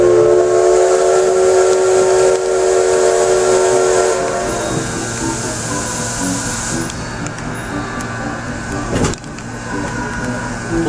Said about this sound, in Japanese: 帰る時も大きな汽笛が鳴ります。